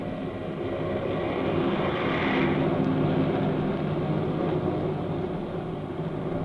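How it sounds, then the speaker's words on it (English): A fleet of military airplanes flies overhead in battle formation in a radio drama, a steady broad roar of engines droning evenly and swelling slightly near the middle, with no talking. "Far overhead, a fleet of airplanes soars in battle formation, a jagged spearhead against the fleecy clouds."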